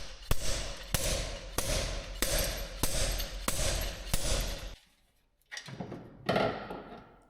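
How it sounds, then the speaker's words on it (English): A slide hammer pulls an inner CV joint out of a Mercedes Sprinter 4x4 axle, with about seven sharp, evenly spaced metallic impacts, each ringing briefly, then a short pause and a few rougher scraping knocks. "I was thinking to use a slide hammer to pull it out"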